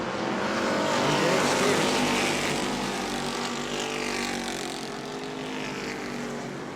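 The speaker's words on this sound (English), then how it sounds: "Blake Clouser pulling up to the back bumper now" Race cars at New Smyrna Speedway roar in a continuous, loud engine drone that swells and fades slightly as the pack runs close together on the track, with no talk over it.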